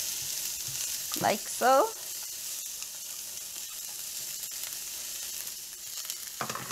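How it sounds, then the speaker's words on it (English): Chopped onions sizzle in a preheated 10-inch Salad Master skillet. The frying hiss is steady and close, with two brief voiced sounds early on and a few words spoken near the end. "I'm using a 10-inch skillet, Salad Master, and I have it already preheating. So I'm gonna put my onions"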